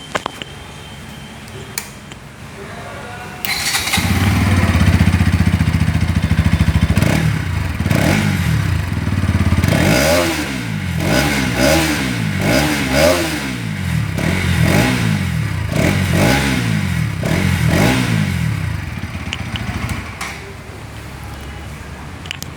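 Bajaj Pulsar NS200 BS7 motorcycle engine idling, then revved hard in a series of rising and falling bursts, loud and close, before settling back to idle.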